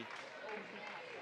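A crowd at a Park Center vs St. Louis Park boys high school basketball game gives a steady round of applause to player Paris Johnson as he leaves the floor, a dense clatter of clapping under a commentator's voice.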